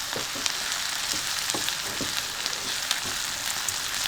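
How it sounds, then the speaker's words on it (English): Onions sautéing in a pan give a dense, close sizzle with constant crackle and a few sharper pops throughout, with no voices. "they're sizzling away. You probably can hear them quite loudly"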